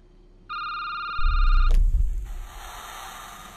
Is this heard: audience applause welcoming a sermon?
no